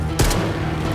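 A single sharp gunshot cracks out in a video game set in the Chernobyl Exclusion Zone, loud and close, followed by a brief low rumble.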